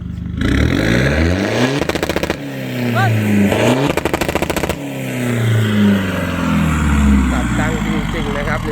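A 1961 Chevrolet with an open aftermarket exhaust revs hard, its engine climbing and dropping through several loud bursts with sharp popping cut-offs, close by, while someone talks over it.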